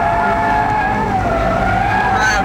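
A Honda Civic Type R pulls hard in first gear out of a hairpin, its engine note climbing loud and close with a brief tyre chirp near the end.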